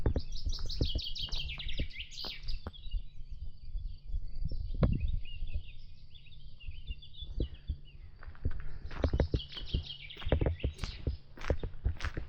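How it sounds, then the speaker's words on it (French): Small birds chirp and trill in bright rapid bursts along a countryside walking trail, with a soft low rumble and occasional thumps underneath. "le paradis des oiseaux"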